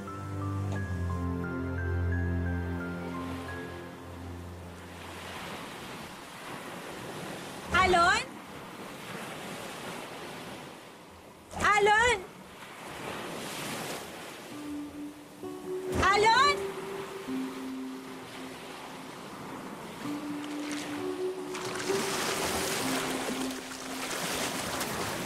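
Steady wash of ocean surf rolls throughout, with dramatic music and brief shouted voices rising over it.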